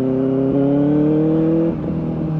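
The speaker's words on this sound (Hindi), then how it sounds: "और ये आवाज़ सुन रहे हो, मेरे बाइक का है।" A Benelli 600i motorcycle idles close by with a steady, droning exhaust hum that dips slightly near the end.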